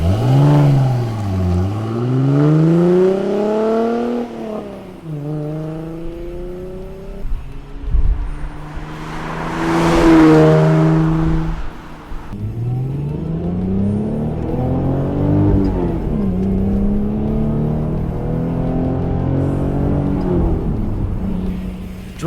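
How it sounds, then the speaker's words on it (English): A V6 Ford Mustang with a take-off dual exhaust revs and accelerates hard, its loud engine note rising and falling through repeated pulls and gear changes, close and continuous with no talk. "Under full throttle, the V6 roars louder than stock and keeps a nice tone throughout the entire power band."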